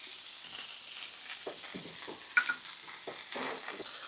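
Garlic sizzling in oil on a flat-top griddle, a steady hiss with soft crackles and a sharp tap or scrape midway, moderately quiet and close.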